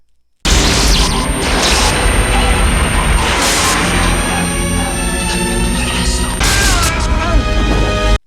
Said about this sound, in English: she showers the lawn with glass and leaves